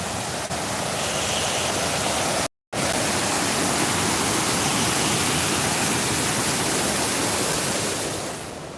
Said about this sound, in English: We love this waterfall.